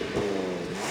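A Land Rover Defender OCTA's active exhaust in normal mode gives a brief, steady engine note, a short, moderately loud hum heard alone.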